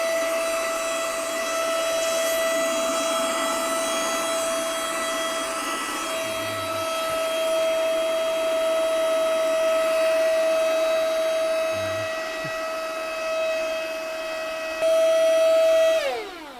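A GOOLOO A7 jump box's built-in air pump whines and hums steadily while inflating, a continuous motor drone holding for about fifteen seconds before rising briefly and cutting off.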